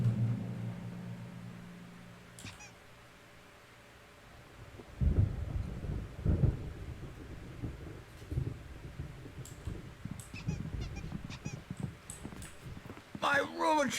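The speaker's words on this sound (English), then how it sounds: "There's a storm coming. Oh, what a storm." Thunderstorm in the video game Alan Wake, with deep rolling thunder rumbles building after a quiet start, mixed with scattered clicks and rustles, moderately loud and close.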